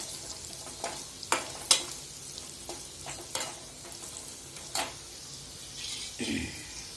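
Spice masala stirred into eggplant in a pan for bhogi bhaji, quiet frying hiss broken by sharp clinks and scrapes of a spoon against the pan, close and intermittent, no talking.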